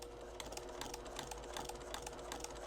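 A sewing machine stitching in the ditch along the seam lines of in-the-hoop quilt blocks, giving a quiet, steady rapid stitching patter with a faint low motor hum throughout, no talking.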